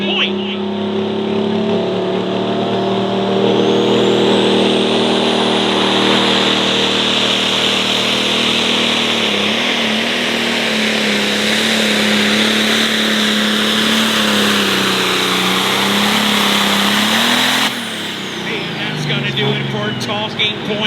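John Deere 4430 test tractor engine at a light-limited pro stock tractor pull, a loud sustained roar with rising and falling pitch under the load of the sled, then dropping abruptly near the end; an announcer talks over it.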